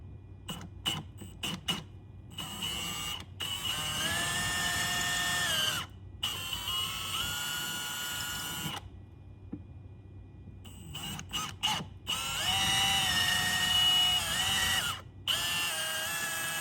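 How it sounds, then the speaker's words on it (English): A power drill bores bolt holes into a wall stud while an EV charger is installed, running in several bursts: short stuttering pulses at first, then longer sustained whines with pitch shifts as the bit bites, separated by brief pauses. "where I'm going to be drilling those two bolt holes"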